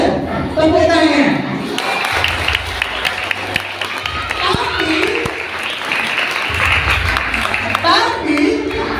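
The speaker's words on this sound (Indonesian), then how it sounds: "Tepuk tangan." Applause from the audience at an Isra' Mi'raj celebration at an Islamic primary school, a steady dense wash of clapping running throughout with voices and crowd noise mixed in.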